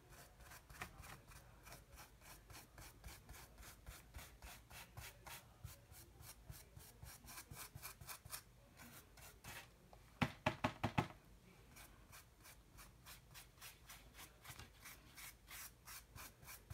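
Paper collage pieces rubbed down onto a canvas by hand, giving a steady run of quick scratchy rubbing strokes, faint and close, with a brief burst of sharper knocks partway through.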